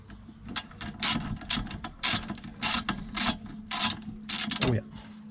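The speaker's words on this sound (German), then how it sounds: "Und die Schrauben werden dann mit 36 Newtonmeter Drehmoment" Torque wrench tightening the rear brake bolts on an Opel Astra K to 36 Nm, a close ratchet clicking in repeated quick bursts of strokes with brief pauses between them.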